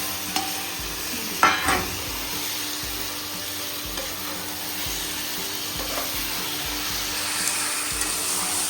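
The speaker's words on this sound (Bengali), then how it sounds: "এবার আমি মাংসটাকে, ম্যারিনেট করা মাংসটা এর মধ্যে দিয়ে দিই।" Marinated chicken for biryani is added to a pan of fried tomato and sizzles steadily up close, with a few clattering stirs and scrapes early on and frying that grows louder toward the end, with no one talking.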